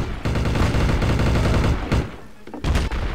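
Dense, continuous video-game gunfire with rapid overlapping shots fills most of the clip, breaking off briefly near the end before another short burst.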